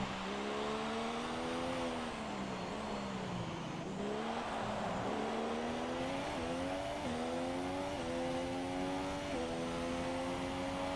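A Ferrari Formula 1 car in F1 2017 screams through a race at the Spanish circuit, its high-revving engine whining steadily with sweeping pitch changes and brief shift steps, heard alone.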